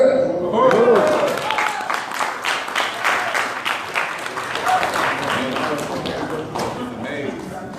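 An audience at a political conference in Washington applauds, a dense spread of clapping hands that swells early and then holds steady, with voices faintly mixed in among the crowd.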